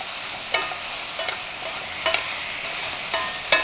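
Chicken pieces with carrot and potato frying in a pan for braised chicken, stirred with a few short scraping clatters over a soft, steady sizzle, close by and fairly quiet.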